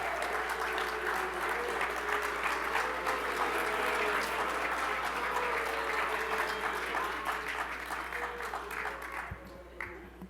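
Sustained applause from a banquet crowd honoring award recipients at the St. Francis College Charter Award Dinner, steady and full for about nine seconds before tapering off at the end.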